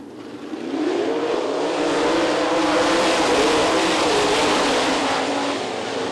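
A pack of sprint cars roars off the start of a heat race at Lee County, engines swelling from a lower drone into a loud, sustained wall of revving with rising and falling pitch sweeps from several cars at once.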